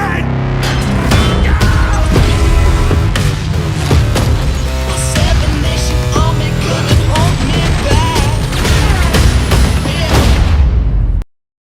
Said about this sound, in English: This is the type of devastation you can create when using the bombers in Battlefield 1.